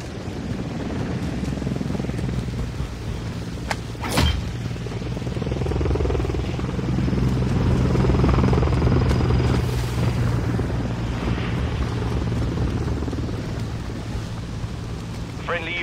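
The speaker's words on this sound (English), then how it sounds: "Friendly Overwatch helo in the area." Friendly overwatch helicopter passing overhead in a military shooter video game, a low sustained rotor rumble swelling and fading, with a sharp shot and other game noises around it.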